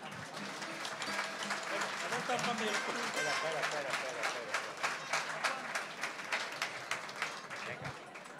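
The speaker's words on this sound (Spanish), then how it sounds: "Y ahora sí, el aplauso para ellos." Crowd applause for the Niño de Nápoles cuadrilla at a folk music gathering, sustained rhythmic clapping that builds and then continues in uneven bursts, with a voice heard over it at times.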